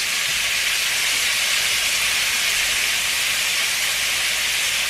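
Hamburger browning in bacon fat in a hot pan, a steady bright sizzle with no breaks, close and fairly loud with nothing else over it.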